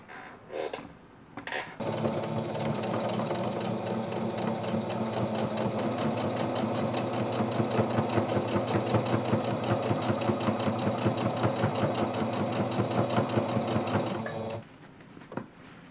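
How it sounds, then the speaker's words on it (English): A sewing machine runs steadily for over ten seconds stitching fall pot holders, a close, even mechanical whir with a rapid needle rhythm, starting and stopping with short pauses at either end. "sew this way and just sew all the way around"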